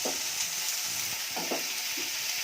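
Tomato masala simmers in a pan with a continuous close sizzle, broken by several soft scraping and clattering strokes as a spoon turns it over. No voices are heard.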